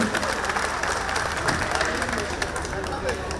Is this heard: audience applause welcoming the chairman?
yes